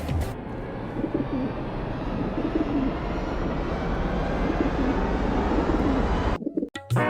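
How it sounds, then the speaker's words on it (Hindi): Steady flock of pigeons cooing and rustling over a constant broadband wash, fairly loud throughout before cutting off abruptly near the end. "अरे चिंकी देखो, एक साथ सारे कबूतर नीचे आ रहे हैं"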